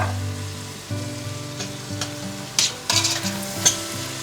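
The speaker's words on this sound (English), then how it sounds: "And we give it a little stir" Sicilian caponata in a pan, just dressed with agrodolce vinaigrette of vinegar and dissolved sugar, sizzles under a few brief stirring scrapes, with a low steady tone in the background.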